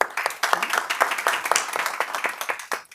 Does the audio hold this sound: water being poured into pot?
no